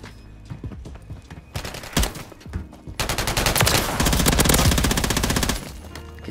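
Bursts of automatic gunfire from Call of Duty Modern Warfare III, in a Search and Destroy match with the Striker weapon: scattered shots at first, then a loud sustained volley that stops near the end.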